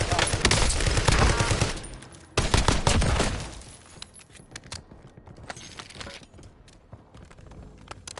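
Gunfire from a slow-firing wooden gun in a video game, with dense loud shots in the opening seconds, a second burst near the middle, then fading into sparse, fainter pops.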